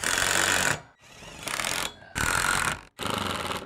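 Long screws being driven through conduit saddles into a greenhouse roof, a loud whirring power-driver burst repeated in three close runs with brief pauses between.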